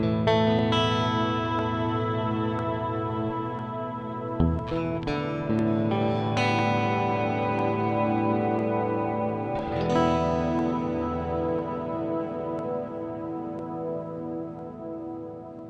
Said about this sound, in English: what I'll hear is the delay after it's gone through the reverb